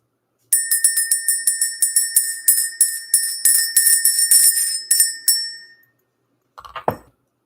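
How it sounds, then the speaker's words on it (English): A small bell rung over and over in a quick, steady run of bright, ringing strikes for about five seconds, then a brief clink and rustle after a pause. "We're going to ring this bell."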